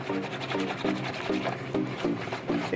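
Sweet potato pudding batter for Jamaican-style pudding whisked by hand in a bowl, giving a fast, even, rhythmic swishing and tapping pattern up close.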